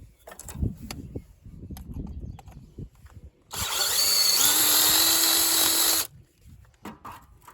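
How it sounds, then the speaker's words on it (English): A power drill bores out a post on an Allis Chalmers RC tractor: after a few quiet knocks and handling clatter, the drill runs at a loud, steady whine for about two and a half seconds, then stops. "We're gonna have to drill this out just a tad."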